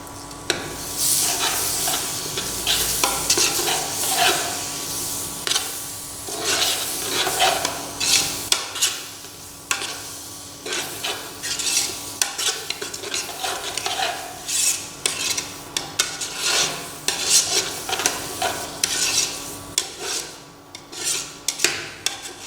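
A spoon scraping and stirring coriander and mint into turkey biryani ingredients in a pot, repeated rasping strokes over a faint sizzle, close and fairly loud.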